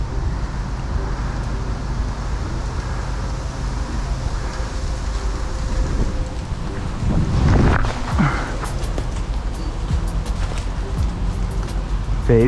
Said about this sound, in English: There's a bit of a headwind